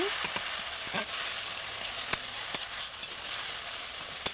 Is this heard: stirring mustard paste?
yes